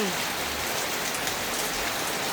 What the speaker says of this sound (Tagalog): It's a delicious rain.